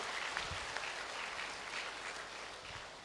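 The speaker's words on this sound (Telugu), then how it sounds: "ఒకసారి దయచేసి గట్టిగా క్లాప్స్ కొడదాం" A rally crowd in Ongole claps together, a faint, dense, steady patter of many hands from a distance that lasts the whole moment without a break.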